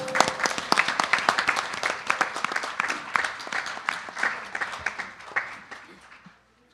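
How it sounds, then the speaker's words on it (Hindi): A congregation at a Sunday morning satsang breaks into applause, dense clapping that starts strong, thins gradually and fades out near the end. "Let us take a moment to give a round of applause to the parents of the children who are here."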